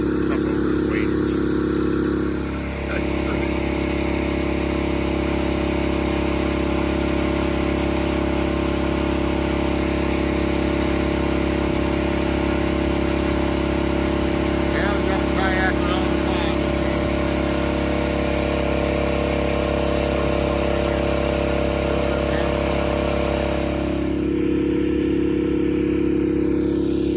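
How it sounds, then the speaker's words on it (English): Water pumps running beside a farm pond, a steady loud mechanical drone that holds for the whole stretch with faint scattered noises over it. "Got the pumps going."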